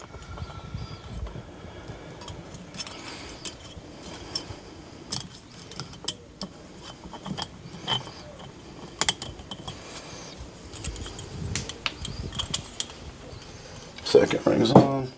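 A Napier piston ring is fitted onto a piston with ring pliers, giving faint clicks and metallic ticks over a long stretch and a sharper scrape and clink near the end. Someone talks through the job.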